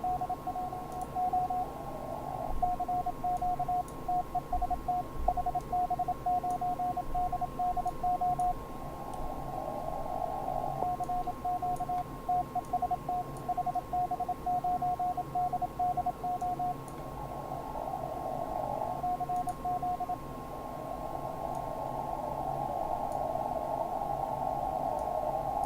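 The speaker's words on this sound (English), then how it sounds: "this is all Morse code," Morse code sent over radio: a steady mid-pitched tone keyed on and off in rapid dots and dashes, running in long bursts with short breaks over a constant hiss and low rumble.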